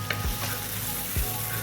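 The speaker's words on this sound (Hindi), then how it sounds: "इसे अच्छी तरह से नमक और मिर्च को मिक्स करने के बाद ना अच्छी तरह से इसे हमने भूनना है 2 से 3 मिनट।" Minced beef sizzling on a hot tawa, seasoned with pink salt and red chili powder. A loud, steady frying hiss fills the whole moment, and a spatula scrapes twice across the metal surface.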